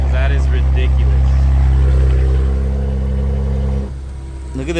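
A Kia Stinger engine idles with its valve mufflers closed: a steady, loud, close-up droning rumble that eases slightly and dips near the end.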